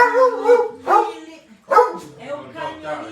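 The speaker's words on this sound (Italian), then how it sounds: "è un cagnolino che è un monello, un po' geloso." A small dog barks and yips in a few short bursts, close and fairly loud, with uneven pauses between barks.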